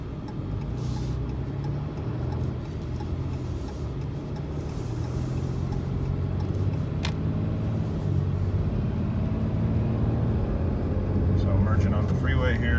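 A Ram 3500 pickup cruises on the freeway, its steady road and engine drone filling the cabin at an even, moderate level from start to finish, with a low rumble underneath.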